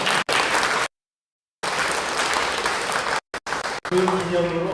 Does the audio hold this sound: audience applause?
yes